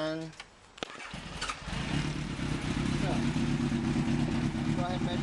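A motorcycle fitted with a Nippon Denso alternator keys on and its engine cranks and fires, settling into a steady, loud running idle close by after a brief starter whir.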